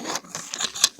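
Whisk stirring cookie mix in a bowl, making quick uneven clicking and scraping strokes, close and fairly quiet.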